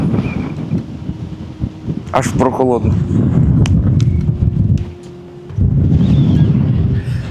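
Strong wind roars and buffets the microphone almost continuously at the mountaintop Tiger Cave Temple in Krabi, easing briefly midway, while someone says a few words.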